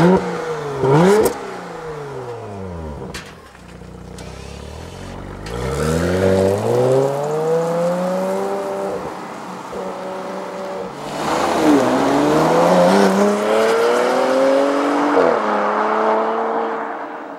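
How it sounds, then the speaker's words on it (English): A 2020 Porsche Macan GTS with the sports exhaust switched on revs and accelerates, engine pitch climbing and dropping through repeated gear changes, loud and close with exhaust pops, no talking. "a more sporty engine sound."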